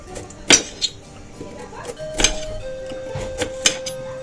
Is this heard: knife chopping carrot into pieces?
yes